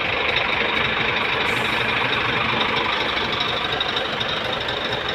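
A Scania P410 truck engine runs steadily at close range, a loud, even diesel chug with a constant rattling drone and no voices over it.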